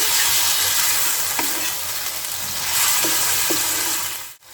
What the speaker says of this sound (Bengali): এটা চিকেনটা ভালো করে দুই থেকে তিন মিনিট এটা ভালো করে নাড়তে হবে